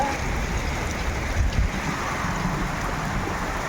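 Rain falls outdoors during a hill trip in Nepal, making a steady, dense wash of noise with a slight gusty swell and no talking.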